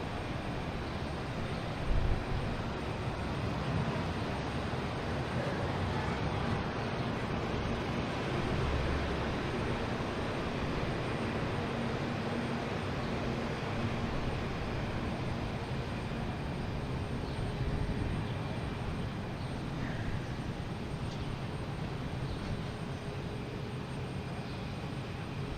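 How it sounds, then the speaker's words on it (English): A Delta Boeing 757 airliner on approach to land at Boston Logan Airport, a steady, broad jet roar from a distance that holds an even level throughout, with no voices. "There's the Delta 757 coming in."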